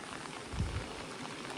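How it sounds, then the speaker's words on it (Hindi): Heavy monsoon rain pours in the mountains of Pauri Garhwal, Uttarakhand, a steady dense hiss of drops on surfaces with a brief low rumble, heard from a little distance. "कभी बारिश अचानक से कम हो जा रही है, अचानक से कभी बीच में तेज हो जा रही है बारिश भी ना"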